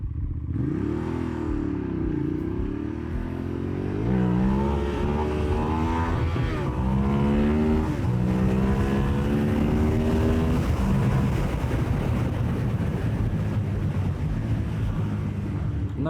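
A Kawasaki motorcycle engine revs and pulls through traffic while riding, rising and falling in pitch through several gear changes, loud and close with steady wind rush over the microphone.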